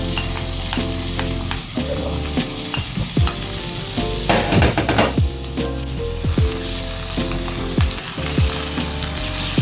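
Tomatoes frying with garlic in a pan, stirred with a utensil: a continuous sizzle broken by repeated scraping and clattering strokes against the pan, close and fairly loud, with no voices.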